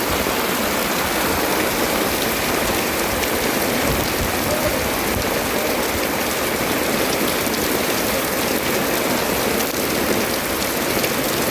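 Heavy rain pours down steadily onto a newly built house with a freshly cast kitchen roof, making a dense, continuous hiss and patter with no break and no voices.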